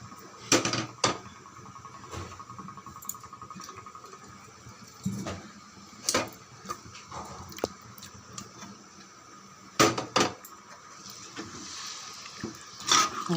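Cooked mutton stirred into a pan for mutton kuzhambu gives scattered wet squishes and sharp spoon scrapes and clacks against the pan, arriving in irregular bursts between quieter gaps.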